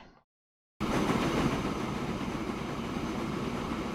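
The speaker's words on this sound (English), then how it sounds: "we will have this train coming out of here. This engine." A departing train engine in the video game Transport Fever rumbles in abruptly after a moment of silence, then holds a steady, loud mechanical roar.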